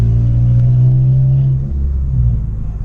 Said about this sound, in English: Engine break-in, and I'm getting it on video so everybody can see.